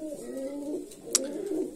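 Pigeons coo softly in an aviary, low throaty rolling calls overlapping through the moment, with a brief sharp rustle or chirp midway and faint room background.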